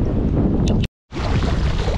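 Strong wind at a kitesurfing spot buffeting the microphone in a loud, roaring rush, cut by a brief silence before the gusting roar resumes.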